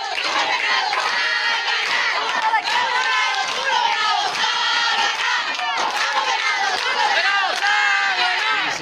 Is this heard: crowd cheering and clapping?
yes